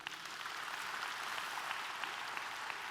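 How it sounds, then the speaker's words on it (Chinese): Steady, dense clapping from a large audience at a regional leadership training conference in Malaysia, even and sustained throughout without voices, heard from a moderate distance. "再给他一个热烈掌声"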